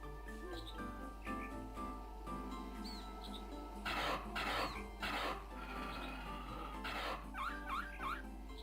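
A dog whimpers and yelps in short bursts over a steady background hum, with a few high squeaky cries near the end.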